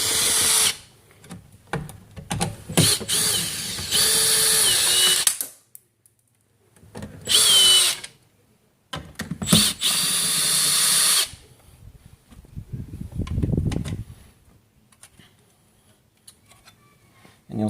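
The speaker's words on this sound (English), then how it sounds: "You can take these 3 screws out" A power drill backs screws out of a speaker adapter housing in a 2016 F150 Lariat Supercrew. It runs in several close, loud whirring bursts separated by short silences, with clicks and handling noise in between.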